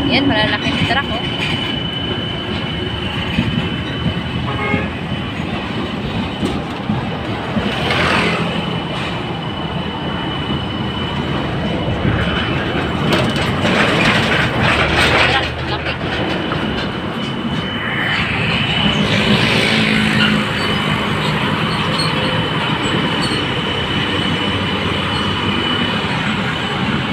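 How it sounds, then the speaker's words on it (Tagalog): Heavy trucks rumble steadily past in roadside traffic, a continuous broadband roar with louder swells as big vehicles go by, and a voice talks briefly over the noise. "Yan, malalaking truck, oh."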